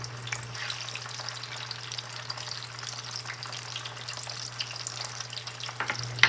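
Potato pieces fry in hot oil with a steady, dense sizzle and a constant low hum underneath. The sound stays close and even throughout, with a small bump near the end and no talk.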